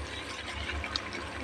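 Tamarind water poured into a Kerala-style crab masala gives a brief, soft liquid splash and trickle, close and fairly quiet, with no voices.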